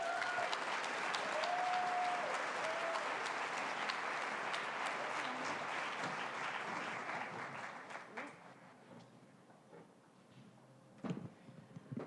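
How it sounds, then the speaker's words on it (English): Summit audience applauding in a large hall, steady full clapping for about seven seconds before thinning out, with a few faint voices and scattered claps at the end. "So if you can please give her a round of applause."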